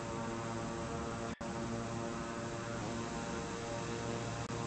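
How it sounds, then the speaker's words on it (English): King Air turboprop engines run at full takeoff throttle, a loud, steady droning roar with strong harmonic hum that holds constant apart from a brief dropout, heard close from inside the aircraft. "We're gonna get our flaps down to takeoff. And full throttle."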